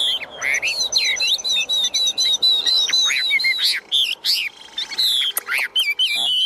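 A tame hwamei, or Chinese laughingthrush, sings a loud, close, continuous run of rich whistled phrases, rapid trills and sharp chirps, with no voices over it.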